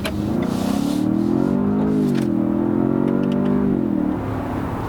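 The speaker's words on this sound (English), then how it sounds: "engine induction noise is discreetly played through the car's speakers to heighten the sporty experience" Synthetic engine induction sound from a 2017 Ford Fusion Sport, piped through the car's speakers: a loud, steady revving drone that rises, dips and swells again in pitch, heard alone without talk.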